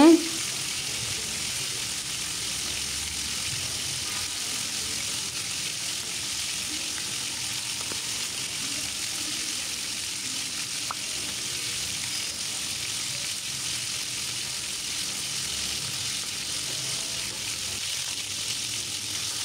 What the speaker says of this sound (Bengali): এই তো চিকেনগুলো প্রায় আমার ভাজা হয়ে গেছে।